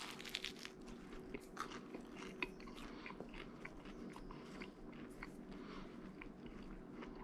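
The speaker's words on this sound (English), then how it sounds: "Let's get a taste of this crust." Someone bites into sourdough pizza crust and chews, with soft repeated crunches and close mouth sounds, quiet and intimate with no talking.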